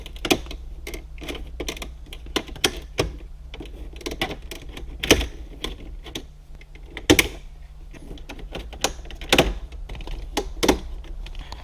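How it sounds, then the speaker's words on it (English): Plastic interior trim panel on a 2004 Porsche Boxster 986 being pried off with a trim removal tool, a series of sharp irregular snaps and clicks spread across the span over a quiet background. "go ahead and pry this plastic piece off all the way around"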